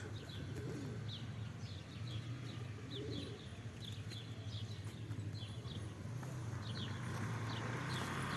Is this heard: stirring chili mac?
no